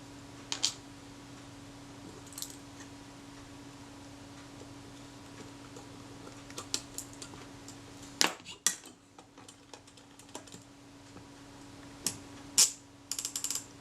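Clicking and ratcheting of a Kodak Retina I type 010 camera mechanism under repair, its part skipping over the top of a gear instead of engaging; faint scattered ticks and sharper snaps over a low steady hum, close up.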